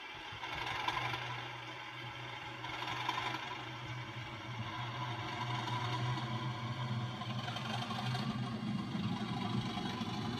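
Bachmann class 37 model locomotive with DCC sound, ROG 37800, its diesel engine sound pulling away; a steady mid-pitched droning hum with low rumble continues evenly throughout, no talking.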